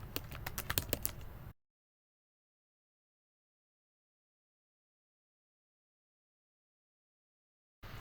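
Typing on a computer keyboard: a quick run of close, crisp key clicks lasting just over a second, then silence until a brief return of keyboard noise at the very end.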